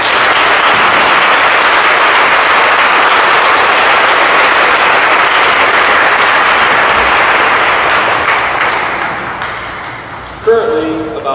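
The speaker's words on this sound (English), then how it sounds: "Let's give them the round of applause that these soldiers have done." Loud, sustained applause from a crowd at a school Veterans Day ceremony honoring soldiers, a dense roar of clapping lasting around ten seconds before tapering off as a voice begins.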